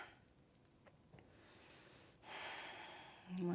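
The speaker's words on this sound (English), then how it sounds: "Breathe." Breathing during a power yoga session on a mat, with soft breathy rushes and a louder exhale near the end against faint background noise, no talking.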